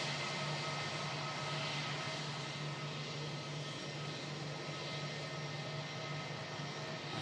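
An EasyJet jet airliner departs Manchester Airport, its engines producing a steady, loud broadband roar with a low hum that holds constant throughout, with no voices.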